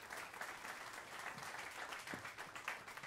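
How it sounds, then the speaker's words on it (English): A jazz club audience claps in steady, fairly faint applause that holds evenly for a few seconds, with no voices over it. "Please give those folks a round of applause"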